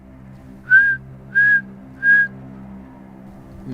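In the woods, a person whistles three short, even single-pitch notes at a steady pace, clear and close against a quiet low hum of background noise.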